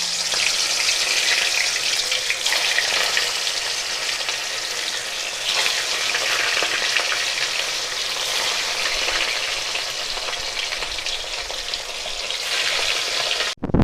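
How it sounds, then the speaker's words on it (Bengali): Shankar fish (stingray) pieces fry one by one in hot oil, giving a continuous, loud, close sizzle that stays even and unbroken throughout, without any talking. "এবার এক এক করে সমস্ত মাছগুলো ভেজে নেব।"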